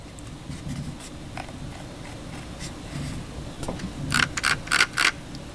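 The scroll wheel of a Logitech G502 Wireless gaming mouse clicks through its notches, faint ticking at first and then several louder bursts of rapid clicks near the end, close up with no talking.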